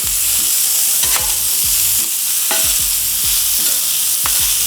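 A burger frying on a hot griddle: a constant loud sizzle, close by, with rhythmic scraping strokes of a spatula about once a second and no talking.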